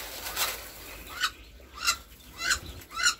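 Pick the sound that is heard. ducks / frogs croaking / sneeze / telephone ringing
ducks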